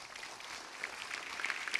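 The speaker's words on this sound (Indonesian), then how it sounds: "Mohon tepuk tangan untuk" Faint, distant applause crackles steadily through a ceremony launching a mutual-aid initiative against stunting and extreme poverty, sounding like a large audience clapping at low volume.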